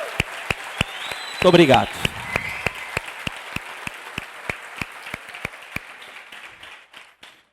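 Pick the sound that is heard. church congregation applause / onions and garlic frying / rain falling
church congregation applause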